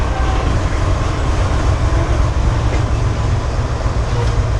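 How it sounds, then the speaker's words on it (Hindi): A coal train rolls past at Pano Aqil Cantt railway station, a loud, steady rumble of wagons with rhythmic wheel clatter that stays close and constant throughout. "बेसिकली कोल ट्रेन है ये।"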